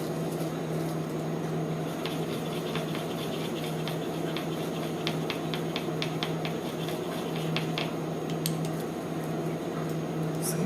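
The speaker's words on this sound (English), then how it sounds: "So I'm just going to go ahead and get these stirred up." Mica powder colours being stirred into melted melt-and-pour soap, light scraping and clinking of a utensil against a container, ticking in quick runs over a steady low hum.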